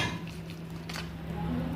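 A spoon stirs a paste of garlic, ginger and turmeric in a bowl, giving soft scraping and clinking against the sides over a low steady background hum.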